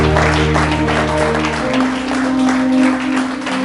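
A church congregation clapping and acclaiming the Lord, a dense steady wash of applause mixed with music and a sustained tone, continuing without a break.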